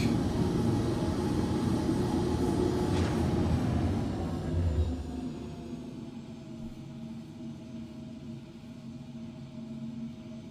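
A VTOL aircraft engine in a video game roars loudly and steadily, then fades and thins out as the craft pulls away fast, leaving a fainter, lingering hum.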